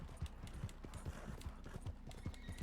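A horse gallops in the video game Red Dead Redemption 2, its hooves beating a fast, steady, rolling rhythm that stays quiet and fairly distant throughout.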